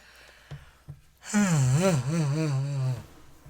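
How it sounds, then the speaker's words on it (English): A long, drawn-out human yawn rises and wavers for a couple of seconds after a few soft breaths, close and fairly loud. "You know the yawns kick in at this moment of time."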